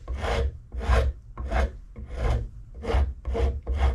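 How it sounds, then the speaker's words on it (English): Rhythmic rasping strokes of sandpaper on a wooden axe handle, about seven even back-and-forth passes, close and fairly loud, with no talking. "I'll sand this whole thing smooth and get it ready to burn"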